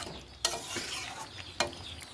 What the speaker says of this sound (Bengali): আমি 2 থেকে 5 মিনিট পর পরই এটা নাড়াচাড়া করছি